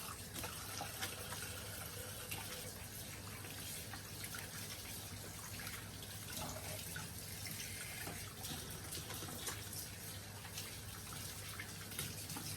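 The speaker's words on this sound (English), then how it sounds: "Let me wash my hands and I will do that." Hands are washed under a running kitchen tap while a turkey is prepared for roasting; the water streams in a steady, even hiss for the whole stretch, with slight splashing changes and no voices.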